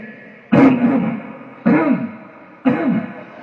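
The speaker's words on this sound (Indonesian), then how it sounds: "Akhirnya saya dehem" Three loud throat clearings in a row, evenly spaced and close up, each a short rough rasp with quiet between them.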